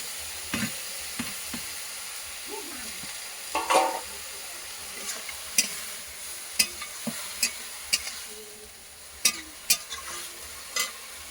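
Prawns fry with an onion and spice paste in a pan, giving a faint steady sizzle broken by a dozen sharp scrapes and clinks of stirring at an irregular rhythm.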